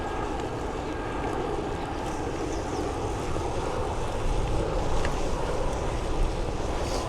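An EasyJet passenger airliner passes overhead near Bournemouth, a steady, distant roar that swells slightly toward the end under gusting wind noise.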